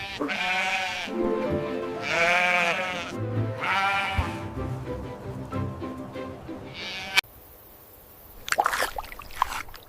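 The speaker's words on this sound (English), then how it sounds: "Sheep." A sheep bleats several times in long wavering cries, close and loud, followed by a short pause and a few fainter rustling sounds.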